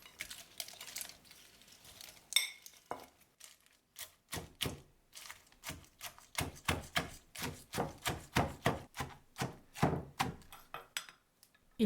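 Shrimp carcasses being crushed for a laksa broth, a run of sharp, close cracks and crunches that starts sparse and becomes a steady, rhythmic pounding.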